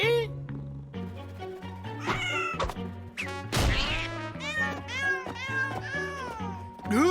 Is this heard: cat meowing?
yes